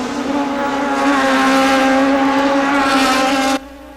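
Toyota Atlantic race cars scream past on the Toronto street circuit, a loud high-pitched engine whine that swells and holds, then cuts off abruptly into quieter background noise.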